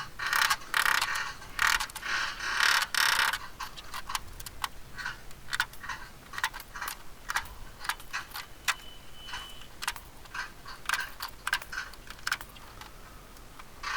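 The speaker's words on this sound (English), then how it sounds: "I am so glad I got that pneumatic rivet gun." A Chicago Pneumatic pneumatic rivet gun sets rivets into a boat hull in short, sharp rattling bursts, loud at first, then quicker, fainter repeated taps spread through the stretch.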